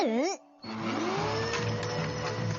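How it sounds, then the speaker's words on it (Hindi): A cartoon vacuum cleaner from a Hindi-dubbed Shinchan episode whines into action after a sliding tonal sound effect, then keeps up a steady motor hum with rattling as it sucks up coins. "अगर वैक्यूम पावर की बात करें तो ये ज्यादा ताकतवर है, ये भारी सिक्के भी उठा सकता है।"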